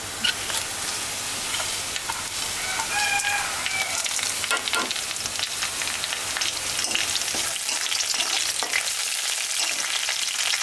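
Onions frying in oil with whole spices (bay leaf, cinnamon, black pepper, cloves, green cardamom) for khichuri, giving a steady, close sizzle that runs unbroken throughout, with no talking.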